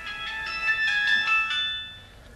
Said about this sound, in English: whenever you want your phone to ring, just start the video camera